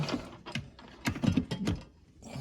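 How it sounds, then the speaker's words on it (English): A small screw on an under-cabinet light being loosened with a hand tool, heard as a few quiet, irregular clicks and scrapes spread over a couple of seconds with no talk. "I'm gonna loosen my screw so I can tighten it back up."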